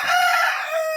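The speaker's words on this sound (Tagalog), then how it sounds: "Dami mo ng manok, oh." A rooster gives one loud, close crow with a rising, tonal cock-a-doodle-doo that dips and then picks up again near the end of the one-second burst, in a flock of chickens, with nobody speaking.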